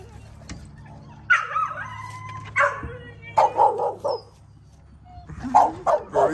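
A young pet dog, one of a big sister-and-brother puppy pair, barks and yips in several short bursts close by, with whimpering sounds in between and quiet background hum.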